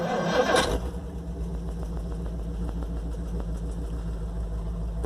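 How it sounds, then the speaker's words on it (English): A 1958 Plymouth Suburban engine cranks briefly and catches, then settles into a steady, close idle with a low, even rumble. "One hit of the gas. Let's see how fast it cranks up here."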